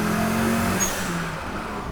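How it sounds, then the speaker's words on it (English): A turbocharged 850 1967 Austin Mini Moke's engine drones under acceleration, a steady, fairly loud mechanical hum with a rising whine, heard from on board the moving vehicle without any talk. "Let's listen to this turbo."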